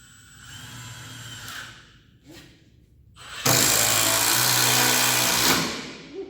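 A power drill runs in brief test bursts, then holds a loud, steady whine for about two seconds before spinning down.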